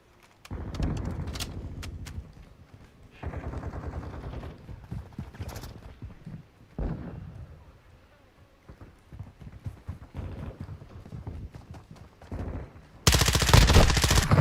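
Rapid gunfire bursts from the Call of Duty Modern Warfare II video game, with the BAS-P weapon in play. Several separate volleys of automatic fire, fairly quiet overall, with a louder, denser burst at the end.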